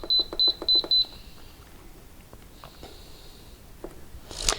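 An Instant Pot Duo gives a quick run of five sharp electronic beeps as its pressure-cook timer is set for a pot roast, followed by quiet handling clicks and a brief rustle.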